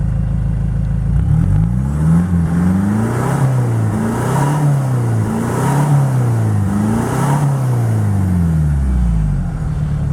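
A Kia Sorento's 2.5 litre CRDI diesel with a straight-pipe exhaust, no catalytic converter or middle box and only the silencer, revs repeatedly in loud rising and falling sweeps, close and alone.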